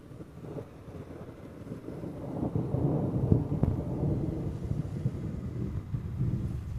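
Thunder rolls and rumbles through a thunderstorm moving into Salina, a low, sustained roar that swells in loudness partway through, with wind buffeting the microphone and no talking.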